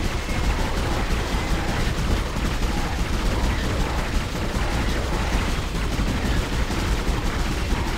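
Dense, continuous gunfire from the video game Dead Space, played on hard mode, keeps up a loud, unbroken barrage of rapid shots from start to finish.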